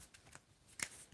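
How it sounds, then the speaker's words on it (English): A deck of tarot cards is shuffled by hand during a reading, giving a few soft, brief riffling swishes, faint and close, without talk. "I need you to tell me when to stop shuffling."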